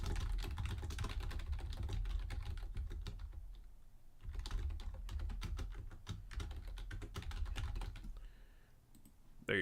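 Rapid keystrokes clatter on a computer keyboard in continuous bursts with a short pause midway, close and fairly steady, no voices over it.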